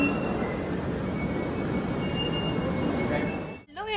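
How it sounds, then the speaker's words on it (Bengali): A late-running passenger train pulls into Malda station, its steady rumble and rolling wheel noise filling the scene alongside thin squeals from the rails, ending with a brief sharp clatter. "আমাদের ট্রেনটা ফাইনালি ঢুকলো"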